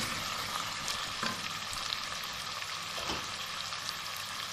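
Chicken pieces frying in spices for a green chicken curry, a steady close crackling sizzle with occasional stirring scrapes and soft knocks, no talking.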